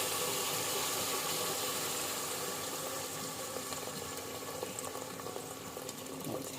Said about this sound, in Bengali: এই পর্যায়ে আমি এখন দিয়ে দিচ্ছি গরম গরম জল, জলটা নিজেদের পরিমাণ আন্দাজে।